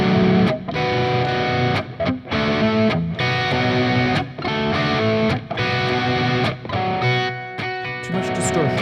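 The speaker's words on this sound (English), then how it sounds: "Too much distortion." A loud electric guitar with heavy distortion plays a chugging riff of short, punchy chord hits broken by brief gaps, sustained and dense throughout.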